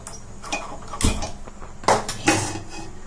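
A kadai pan is set down on a stove and the burner is lit, giving a few close metallic knocks and clunks with a soft hiss between them.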